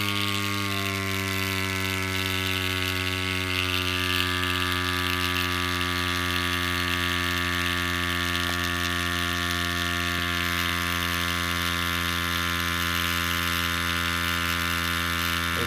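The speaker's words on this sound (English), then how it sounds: "my little Cyc Plus mini pump, which is teeny tiny and does a great job at checking the pressure and pumping it up very quickly" Cycplus electric mini pump inflating a Brompton bicycle tyre, a steady, close, high-pitched motor whine with a strong buzzing hum that runs continuously without a break.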